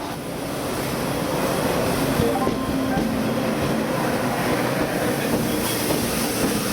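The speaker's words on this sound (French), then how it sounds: "Nous voici installés dans ce TGV réseau pour Bruxelles" A TGV Réseau high-speed train rolls along the rails, heard from inside the carriage as a loud, steady rumble with faint clicking of wheels over track joints that continues through the whole stretch, with no voices.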